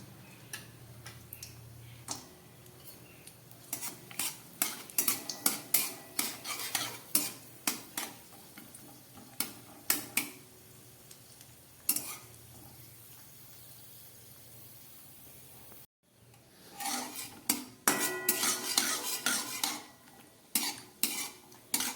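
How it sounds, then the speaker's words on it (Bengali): A spoon scrapes and taps repeatedly against a pan in an irregular rhythm while cashews fry in ghee, with a faint sizzle underneath; no talking. "এবার এই ঘিয়ের মধ্যে আমি একটু কাজুগুলোকেও ভেজে নিচ্ছি"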